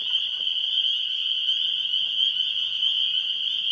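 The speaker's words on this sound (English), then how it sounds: "we are hearing spring peepers, the loud peep, peep, peep" Spring peepers in a marsh form a loud, steady chorus of high peeping calls that fills the whole stretch continuously, with no voices present.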